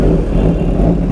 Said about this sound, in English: Today I am taking the 959 Panigale on a highway